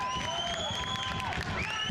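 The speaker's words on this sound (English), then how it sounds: "Listen to the Oak Ridge crowd" The Oak Ridge crowd roars and cheers at a girls' high school basketball game against Campbell County, a loud, sustained wall of voices with high-pitched shouts and screams rising above it.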